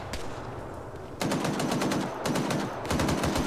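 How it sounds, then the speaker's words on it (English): Bursts of rapid automatic gunfire in a shooter video game, with several loud rattling volleys separated by short pauses over a steady background of battle noise. "We're getting shot from everywhere."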